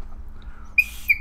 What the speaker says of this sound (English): this is a wee little whistle